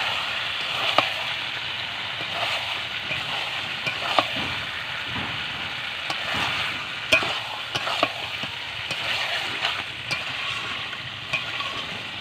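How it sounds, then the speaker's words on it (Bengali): Chicken meat sautéed and stirred in a pan over a clay stove, a steady close sizzle with scraping stirs and light crackles throughout, no talk. "আমি মাংসগুলোকে ভালো করে কষিয়ে নেব।"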